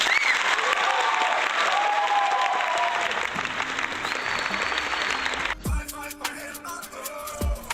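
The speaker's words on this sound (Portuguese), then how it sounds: "Palmas para o professor Ricardo aí, rapaziada." Steady applause from a crowd fills most of the clip, then thins to a few scattered claps near the end.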